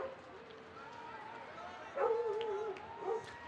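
Dogs bark and whine in the background of a college ice hockey arena on a Humane Society charity night, a couple of distant yelps and whimpers rising over crowd murmur and a commentator's voice.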